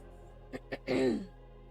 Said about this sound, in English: you'll hear me clearing my throat quite a bit